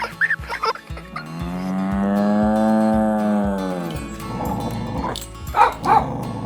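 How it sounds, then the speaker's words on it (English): A cow lets out one long, loud moo lasting a few seconds, framed by brief yips and barks from a dog before and after. "Did you recognize the cows mooing?"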